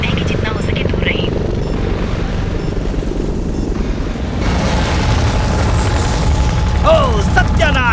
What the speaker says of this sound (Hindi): वो हेलीकॉप्टर हमारे सिर के ऊपर मंडरा रहा है